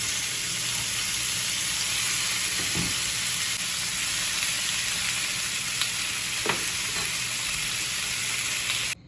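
Steak with garlic fries in a pan for a quick pepper steak, a loud, continuous close sizzle with a steady hiss and a few faint spatters and stirs, no talking.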